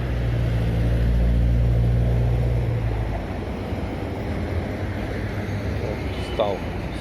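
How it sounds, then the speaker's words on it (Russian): Rush hour city traffic, with cars moving in three lanes along a street in Russia: a steady broad roar of engines and tyres with a deeper rumble of heavy vehicles that eases partway through. "6 часов, час пик. Видите, поехали сейчас. В 3 потока машины едут."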